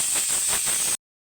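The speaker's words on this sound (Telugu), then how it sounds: "కుక్కర్కున్న ఆవిరంతా పోయిన తర్వాత కుక్కర్కున్న మూత తీసి" A pressure cooker vents steam after the gas is turned off, a loud, steady, close hiss lasting about a second before cutting off abruptly into silence.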